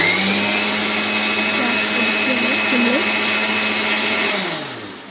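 A kitchen mixer grinder blending papaya for halwa, a loud steady whirring motor drone that runs continuously and winds down at the end, with a voice talking over it.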